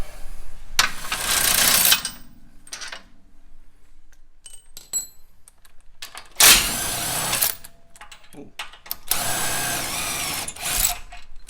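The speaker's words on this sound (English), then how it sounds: "it's time to come over and unbolt the 4 steering box bolts." Power tool loosens the four steering box bolts on a Jeep JL, heard as three sustained whirring bursts with clinks of metal and handling noise between them, fairly close and loud.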